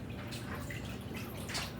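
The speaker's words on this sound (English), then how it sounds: "I'm going to add about a cup of water into the bottom of my Dutch oven here." About a cup of water is poured into the bottom of a Dutch oven holding a baked ham, a brief close splashing and gurgling pour.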